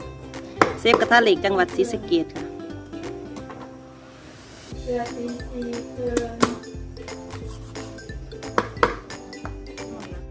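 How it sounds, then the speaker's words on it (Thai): A knife chops ingredients on a board while a Thai sour fish soup with phak kayaeng is prepared, with repeated sharp, uneven cuts and clinking of kitchenware, close by; someone speaks briefly. "เข้าสู่ขั้นตอนการหั่นค่ะ"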